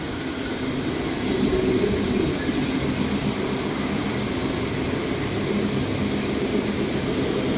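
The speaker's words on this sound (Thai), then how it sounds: "ตอนนี้ก็มี รถสินค้าวิ่งผ่านนะฮะ" A freight train rumbles past steadily at close range on the line beside Bangkok's Red Line, a dense continuous roar of wheels and cars that holds at the same loudness throughout.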